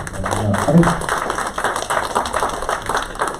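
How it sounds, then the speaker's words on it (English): An audience at a Korea–Singapore entrepreneur panel event gives a round of applause, a close patter of many hands clapping steadily throughout. "if you could give our panelists a quick round of applause"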